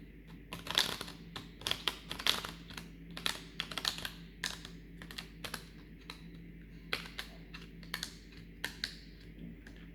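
Rapid clusters of crisp Rider-Waite tarot card riffles and taps, repeating irregularly for several seconds, close up with no talking.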